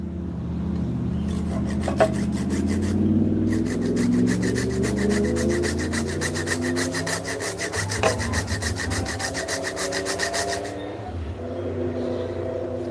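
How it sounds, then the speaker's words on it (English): Nutmeg grated on a hand grater, rapid rhythmic scraping strokes running close and loud for about ten seconds over a low background hum. "I'll just use my grater to just grate this in there."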